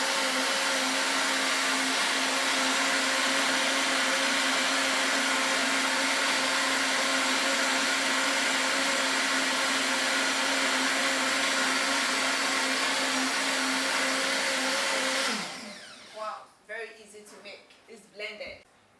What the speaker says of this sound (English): we are going to blend it because the seed is very nutritious